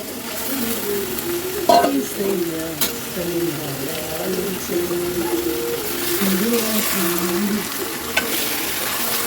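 Marinated chicken pieces sizzle and fry in a pan for chicken curry, with a steady crackle and occasional stirring scrapes as someone talks over the cooking.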